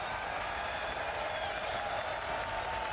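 A football stadium crowd at a Manchester United versus Inter Milan match roars steadily with applause and rising noise before a corner kick, a dense, continuous wash of sound from far around the stands.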